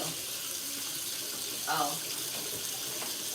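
Water runs steadily from a sink tap to rinse rice, a constant close hiss of flowing water, with a brief spoken exclamation partway through.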